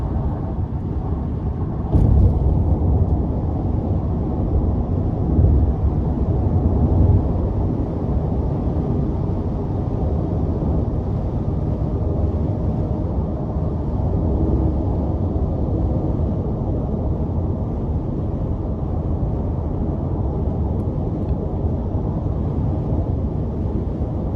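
A 2022 Ram 1500 Big Horn Sport extended-cab pickup on 20-inch wheels cruises down a road, its steady low engine and road rumble continuous and fairly loud from the cabin, with no talk.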